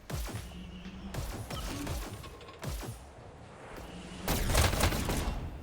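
In a 1v1 all-weapons video game tournament, bursts of gunfire crack out in quick clusters, several separate volleys followed by a louder sustained barrage near the end, with no talking.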